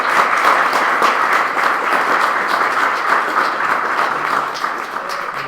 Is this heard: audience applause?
yes